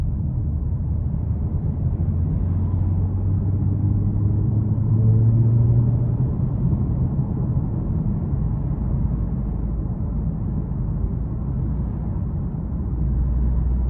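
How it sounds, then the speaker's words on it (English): Heard from inside the cabin while driving, the V6 exhaust of a 2021 Toyota Avalon TRD gives a deep, continuous rumble that swells slightly midway, with no talking. "the exhaust sound is just spectacular"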